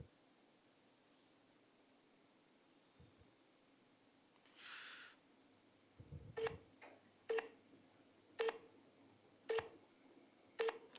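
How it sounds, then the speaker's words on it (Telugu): Telephone dialing tones as a call is placed: a short burst of noise, then a series of about six or seven distinct keypad beeps spaced roughly a second apart over a faint background hiss. "ఒకసారి పెద్ద మనిషి కాల్ చేద్దాం."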